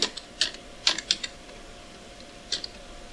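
Scattered keystrokes on a computer keyboard while typing code: a handful of sharp, close clicks in small irregular bursts with quiet gaps between them.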